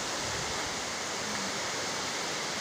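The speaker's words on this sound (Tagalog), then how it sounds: "Grabe jud atong makita diha baha." Floodwater rushing through a flooded area at night in Cabulihan, a steady, dense broadband roar with no pauses, fairly close and continuous throughout, with no talking.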